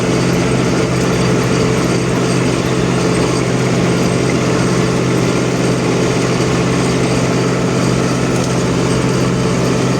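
A T-40 tractor engine running steadily, a loud continuous droning rumble heard close by without pause and with no voices.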